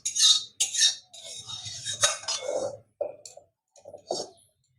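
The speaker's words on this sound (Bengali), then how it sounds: "এখন একটা গামলায় ঢেলে দিচ্ছি।" A serving spoon scrapes and clinks against a metal pot as cooked dahi potol, a curry of pointed gourd in yogurt, is scooped into a bowl. The knocks come in short, separated bursts, close and fairly loud, with pauses between them.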